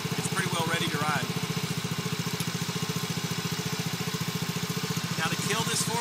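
A four-wheeler ATV idles steadily while warming up on a warm day, a low, even mechanical putter that runs throughout, with brief higher rattles near the start and end.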